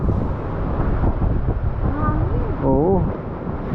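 Strong typhoon wind roars and buffets close by in a continuous low rumble, with people talking over it throughout.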